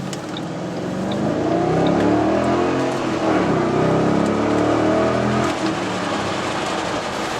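A 2008 Ford Bullitt Mustang engine rumbles loudly from inside the car while driving, its deep drone rising and falling smoothly as the revs swell and ease back.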